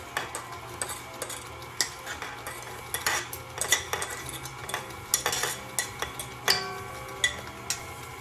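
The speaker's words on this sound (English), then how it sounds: "we want to stir the dry ingredients in the bowl and my mashed bananas" Close, rhythmic clinking and scraping of a spoon against a bowl while dry ingredients are stirred together with mashed bananas for mayonnaise banana muffins. There is no talking.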